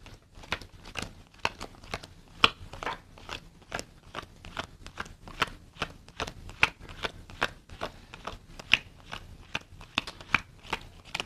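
Playing cards for a game are gathered up and counted by hand, giving a steady run of close, crisp flicks, snaps and riffling shuffles with no talk.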